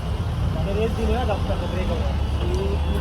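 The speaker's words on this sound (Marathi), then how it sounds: "खूप सारे ट्रॅफिक आहे" Heavy road traffic on the way to Chaitya Bhoomi in Dadar: a constant low engine rumble from cars, buses and trucks, with a few horn-like tones and nearby voices chattering throughout.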